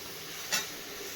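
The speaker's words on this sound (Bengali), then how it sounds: "এবার ভালো করে নেড়ে নেবো নেড়ে কষিয়ে নেবো পাঁচ মিনিট মতো" Steady frying sizzle of foli fish cooking with flat beans and eggplant in a little oil and spice, with one brief scrape of a stir midway.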